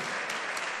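Members of parliament in the Canadian House of Commons cheer and applaud in a dense, continuous roar of clapping that fills the chamber, with no single voice standing out.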